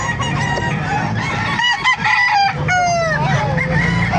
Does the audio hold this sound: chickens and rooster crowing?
yes